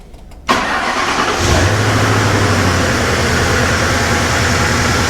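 A 1957 Ford Ranch Wagon engine cranks and fires abruptly, then settles into a loud, steady rumbling idle close by, running on without any voices.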